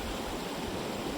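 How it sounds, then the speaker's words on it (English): Tuttle Creek flowing down out of the mountains right behind a campsite, a steady, close rush of running water with no pauses. "is the sound of Tuttle Creek, right behind our campsite, coming out of the mountains"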